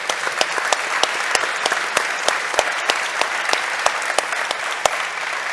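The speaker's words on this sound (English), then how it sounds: "Let's give them a round of applause." Applause for a partner panel at a tech conference in Toronto, a steady crowd of hands clapping with crisp individual claps popping out close by throughout.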